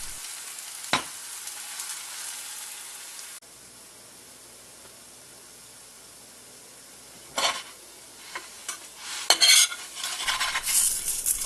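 A Korean potato pancake frying on medium-high heat in a preheated stainless steel pan, a steady soft sizzle joined later by a few scraping and clinking turns of a utensil against the metal.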